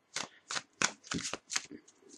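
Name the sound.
shuffling tarot cards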